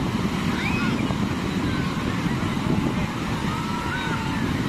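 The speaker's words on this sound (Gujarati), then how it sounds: "કેટલાક મોજા આવે છે, પણ એનાથી આ બધા દૂર બેઠા છે એકદમ" Sea waves rolling in at a beach in Porbandar, heard as a steady, fairly loud wash of surf with wind buffeting the microphone and faint crowd babble in the background.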